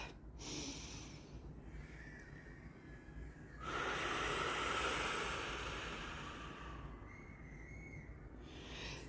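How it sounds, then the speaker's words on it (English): A faint, slow deep breath is drawn in with an airy hiss and then released, heard alone in a quiet room. "Taking a deep breath."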